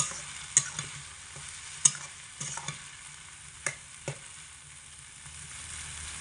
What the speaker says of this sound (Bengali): চিনি দিয়ে হালকা একটু নেড়ে চেড়ে দেবো, যাতে করে চিনিটা সমস্ত রেসিপির মধ্যে ঢুকে যায়